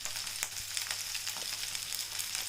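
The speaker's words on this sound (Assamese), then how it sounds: "আটাইখিনি অলপ বেছিকৈ জুইটো দিয়ে ভাজি লৈছোঁ" Capsicum and green chillies fry over high heat for chilli paneer, giving a steady, close hiss of sizzling oil with faint crackles and no voices.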